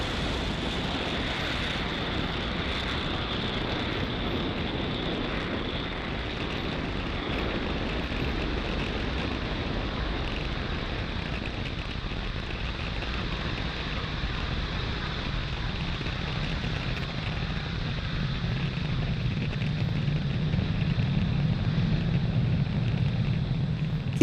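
Roar of a SpaceX Falcon 9 rocket's engines climbing after liftoff from pad 40, a continuous broad rumble that holds steady for the whole stretch and swells in the low end toward the close, with no voices over it.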